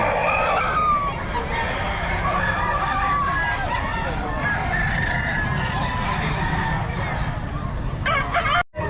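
Many chickens and roosters at a poultry market in Bocaue crow and cluck continuously, a dense, loud chorus of overlapping birds with voices talking among them.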